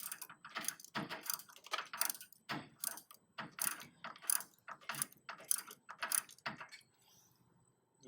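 Bolts are tightened by hand while mounting a motor, heard as close, fast bursts of ratchet clicking, about a dozen runs with short pauses, tailing off into near silence at the end.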